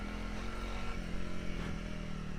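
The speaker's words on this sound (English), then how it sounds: "He's changed the gearing for torque, so it revs up quite a bit more." A Honda CRF300L motorcycle, geared for torque, runs its engine at a steady, loud rev with a continuous droning hum and slight clatter, with no voices over it.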